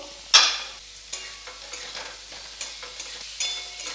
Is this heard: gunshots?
no